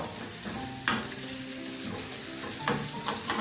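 Green chillies sautéing in a pan for a lime and dates pickle, giving a steady soft sizzle and frying crackle with a couple of sharper stirring clinks, close and continuous, no voices.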